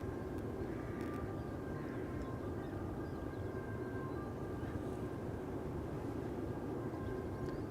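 Jet airliner lining up on the runway at Schiphol's Polderbaan, a steady low engine rumble with a faint high whine, distant and continuous with no talk.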